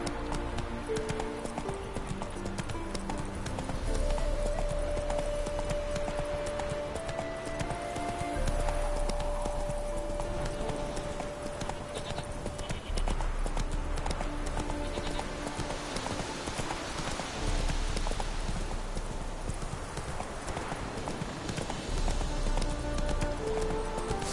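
Hooves of Roach, a galloping horse in a video game, clip-clop fast and steadily under a continuous bed of game music and ambience throughout.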